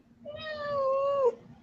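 A cat gives one clear, drawn-out meow that rises and then drops off at the end, heard alone over faint background noise.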